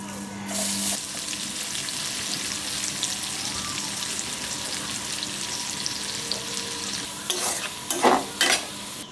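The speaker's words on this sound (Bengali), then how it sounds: "ওই তেলের মধ্যে আমরা পেঁয়াজ কুচিটা ভেজে নেব।" Chopped onion fries in oil left from frying prawns, giving a steady close sizzle with scraping stirs and a few sharp utensil knocks near the end, and no talking.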